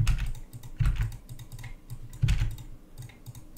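Computer keyboard keys pressed for shortcuts, a few close, clacky clusters of key strikes with short pauses between them, loud and alone without talk.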